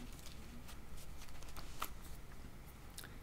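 A tarot card is drawn from the deck and handled: faint, quick papery flicks and soft shuffling clicks scattered over a few seconds, close but quiet.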